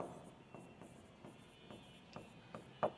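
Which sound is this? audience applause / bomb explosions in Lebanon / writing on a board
writing on a board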